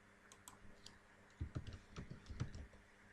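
Keyboard typing on a computer while entering a font name in a presentation program, a quick burst of soft key clicks arriving in a cluster after a quiet start.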